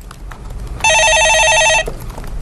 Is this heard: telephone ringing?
yes